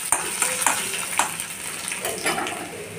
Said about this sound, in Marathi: लसूण पण छान होऊ द्यायचा तेलामध्ये.